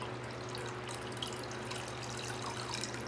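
Water runs steadily into a measuring container being filled to the 2 litre mark beside a well pipe, a constant soft rushing and splashing with no talk.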